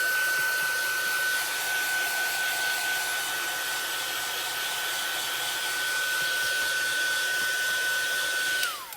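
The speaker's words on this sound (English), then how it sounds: "I am going to set the heat tool to it real quick." An embossing heat gun runs close by with a steady, loud blowing hiss and a thin high whine, holding constant for nearly nine seconds before switching off abruptly.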